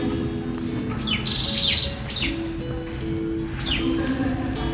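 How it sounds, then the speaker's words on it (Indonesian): Several birds chirp and whistle outdoors over a steady hum of background noise, with short rising and falling calls scattered throughout. "Dengarkan suara burung yang berkicau"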